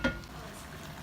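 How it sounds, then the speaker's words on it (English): Mutton fries in a pot for Indian curry with a soft, steady sizzle, opening with a brief clatter and then bubbling quietly on its own. "let me just fry this till it starts to boil water"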